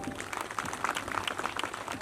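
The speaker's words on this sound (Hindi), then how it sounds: "तो एक बार सब लोग ताली बजा दीजिए" Applause from a crowd gathered at a cow shelter (gaushala) in Modhunagar, dense and steady clapping at moderate distance throughout, without pause.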